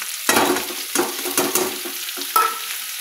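Pointed gourd (potol) frying with salt and turmeric in a pan, sizzling in bursts as it is stirred and tossed, with soft scraping strokes, close and clear with no talk.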